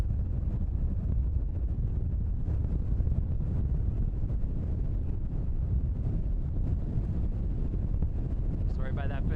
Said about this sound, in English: Wind has picked up and has taken my tripod for a bit of a ride.